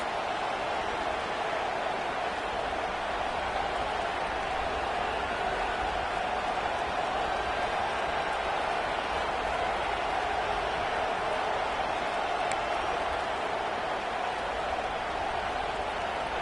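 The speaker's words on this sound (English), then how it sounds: "The Tide crowd rolling noise down onto Saban Field on third down." Alabama fans fill an American football stadium at Saban Field with a steady, dense crowd roar on third down, a continuous wash of noise that holds evenly throughout without breaks.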